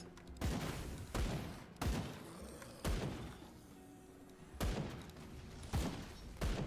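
Bomb blasts in Grim Dawn from a Demolitionist character burst in a series of sharp, heavy booms, several separated by brief gaps, loud and punchy with rumbling tails.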